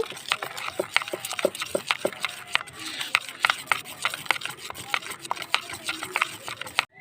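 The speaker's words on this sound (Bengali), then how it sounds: "ঘি দিয়ে ভালো করে একটু মিশিয়ে নেব" Ghee being mixed into a malpua batter of milk in a bowl, a spoon or whisk knocking and scraping in quick, uneven strokes, fairly close and moderately loud, with no talking.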